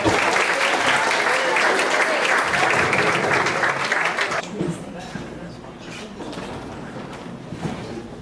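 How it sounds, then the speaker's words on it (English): Dinner audience at an annual banquet applauding the wait staff and lodgers: dense, loud clapping from a large group for about four seconds, then fading into scattered claps and room murmur. "Please give the wait staff and the lodgers a round of applause."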